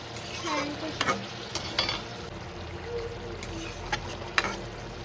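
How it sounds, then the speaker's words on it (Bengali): Helencha greens are stirred while frying in a pan of curry, giving a low steady sizzle broken by several sharp scraping strokes of the spoon. "হেলাঞ্চি দিয়ে একটু নাড়াচাড়া করে অল্প একটু সময় পরে নামিয়ে দেবো"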